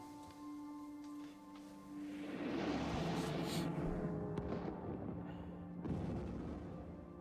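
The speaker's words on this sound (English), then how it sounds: "the movie started already like with explosions" Explosions and booming gunfire from an action movie playing on a TV in the game Life is Strange Remastered, a sustained loud rumbling barrage after a quieter hum, with a sharp burst near the end.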